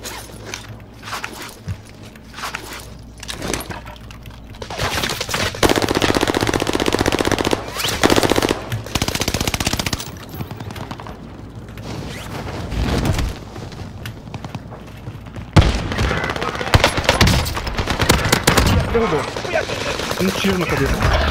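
Rapid bursts of Owen submachine gun fire in Call of Duty: Warzone, loud and near, rattling in repeated volleys amid game effects with players talking over it.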